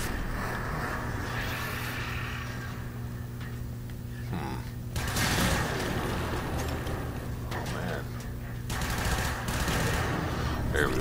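Rapid weapon fire in the video game Warframe on PlayStation 4, dense bursts of gunshots over a steady game-noise background, with a player talking over it.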